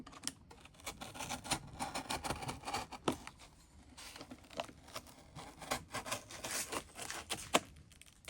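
Cardboard being cut for a concrete bonsai pot mold, a quiet run of rapid crisp snips and tearing scratches in uneven bursts, close by with no talk.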